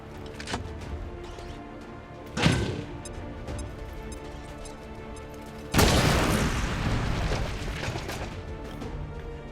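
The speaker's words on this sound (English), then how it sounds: "Let's get an incendiary bomb. It'll do more damage." An incendiary bomb exploding in XCOM 2: a sudden loud blast followed by a sustained roaring crackle of burning, with an earlier sharp impact and quiet ambient tones in between.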